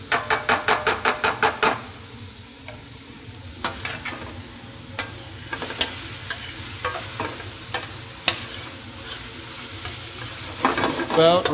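Ground beef and eggs frying in a pan with a utensil scraping and stirring, a rapid burst of clacks at the start, then scattered scrapes and taps over a soft sizzle.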